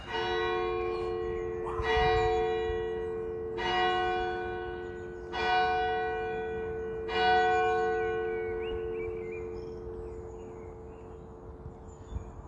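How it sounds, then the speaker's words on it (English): Church bells ring outdoors in Glasgow's West End, with five or six evenly spaced resonant strikes that hang and decay over steady street ambience, moderately distant, as the bells fade out toward the end. "The bells! That is a vibe, isn't that?"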